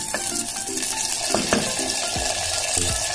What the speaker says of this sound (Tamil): எண்ணெய் வந்து ஹீட் ஆனதும் கத்திரிக்காவை சேர்த்துடலாம். கொஞ்ச நேரம் வதக்கிக்கலாம்